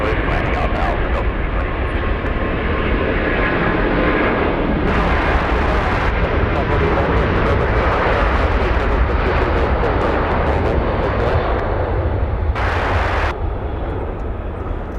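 Two Airbus A380 airliners take off one after the other, producing a loud, sustained jet-engine roar that fills the whole stretch, with radio voices heard faintly over the noise.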